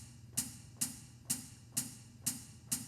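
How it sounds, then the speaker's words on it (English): Hi-hat foot pedal on a Donner DED-200 electronic drum kit gives six quiet, evenly spaced, crisp chick sounds in a steady rhythm, without talk. "The foot control pedal can also generate a hi-hat sound by lifting your foot up"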